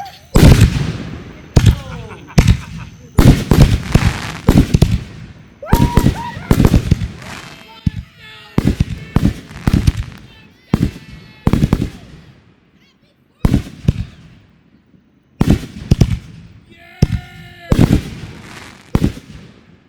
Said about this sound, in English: We got 20 canister shells with Frank out there.